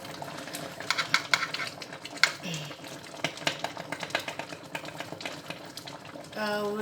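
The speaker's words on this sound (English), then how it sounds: "let me just stir it in" Spoon stirring egusi soup in a cooking pot, irregular scraping and clinking knocks against the pot over a soft background hiss, close and fairly quiet, with a brief voice near the end.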